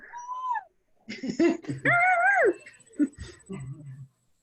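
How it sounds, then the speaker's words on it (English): A puppy whimpers and yips in several short, high, wavering bursts separated by brief pauses, close by in a quiet indoor space. "Levi, look at the puppy dog"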